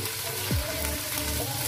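Chicken sizzles with ginger in a hot pan, a steady, dense frying hiss close up that runs throughout, with a faint tonal sweep of background sound over it.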